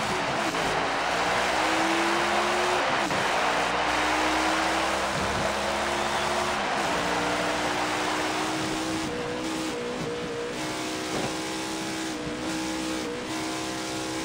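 NASCAR race cars at Darlington in the NASCAR Rivals video game, engines droning and rising and falling in pitch through gear changes as several cars run close together, loud and continuous.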